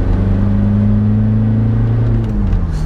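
A VW Caddy short-wheelbase van with an R32-style rear twin exhaust pulls hard in third gear, its loud, steady engine drone rising slightly in pitch with no voices over it.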